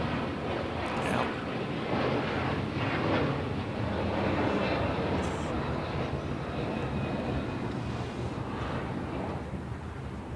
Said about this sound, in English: we have Scandinavian taking off